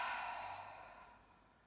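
A single sharp exhale during a yoga breathing exercise, breathy and close, strong at the start and then fading steadily over under two seconds.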